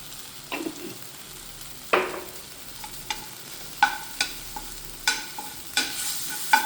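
Tomatoes and red chili powder sautéing in a pan for spicy red chicken, with a soft steady sizzle broken by repeated scraping stirs of a spoon against the pan, close and fairly quiet, with no voices.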